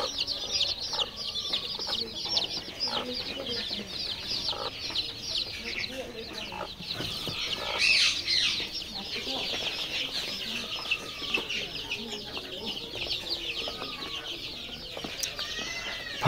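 Many layer chicks eating their morning feed keep up a busy, overlapping chorus of high peeps, moderately soft and continuous throughout.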